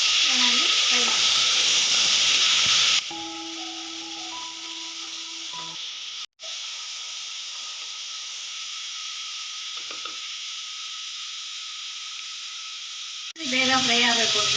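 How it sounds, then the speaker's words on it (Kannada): Onions frying in oil for egg biryani give a close hiss and sizzle, loud at the start, dropping to a quieter steady fry with faint stirring, then rising again at the end. "ಈರುಳ್ಳಿ ಹಾಕೊಂಡು ಚೆನ್ನಾಗಿ ಫ್ರೈ ಮಾಡಬೇಕು."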